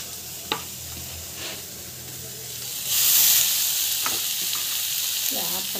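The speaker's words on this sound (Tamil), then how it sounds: "டமாட்டோ அவ்வளோதான், எடுத்து போட்டு நல்லா வந்து வதக்கிட்டுக்கோங்க." Tomatoes sautéing in a hot pan give a continuous sizzle with scattered clicks from stirring and a brief louder hiss burst midway, close by, with a faint voice near the end.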